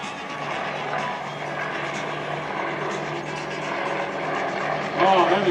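Several propeller airplanes in echelon formation at an air show drone steadily overhead as a sustained engine roar, swelling slightly toward the end as they pass closer, with a voice talking over the noise.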